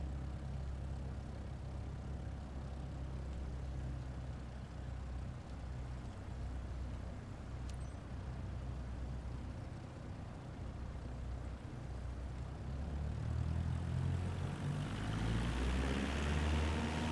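Aircraft taking off from runway 10 in Flight Simulator 2024, a steady engine drone that swells and grows louder and rougher toward the end as the plane speeds up, with no talk over it.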